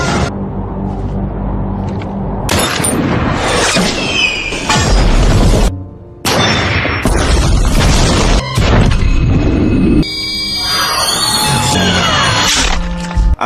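Bomb blasts in the war film Operation Red Sea: a chaotic series of loud booms, crashes and bursts of debris, broken by a few sudden short silences, with squealing tones and a heavy low rumble throughout.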